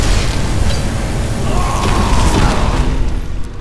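An explosion in the video game Magicka, a loud booming blast with rumbling, crackling debris that swells and then fades.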